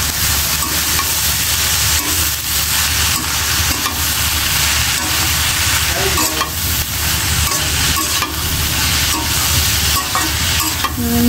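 Mixed vegetables for a Bengali charchari fry in a home kitchen pan, a loud continuous sizzle with repeated scraping and stirring throughout, and no voices.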